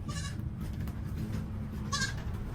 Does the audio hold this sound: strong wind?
no